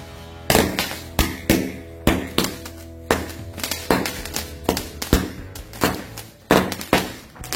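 A mini cake of mercon firecrackers fires a quick series of loud, sharp bangs, about a dozen close blasts in uneven rhythm, each ringing briefly before the next.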